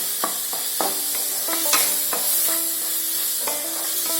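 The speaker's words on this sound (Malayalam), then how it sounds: "നല്ലോണം ഇളക്കുക." Chopped coconut being stirred in a pan for a Kerala coconut curry: a loud, close run of repeated scraping strokes and clinks of a utensil against the pan over a gentle sizzle, no voices.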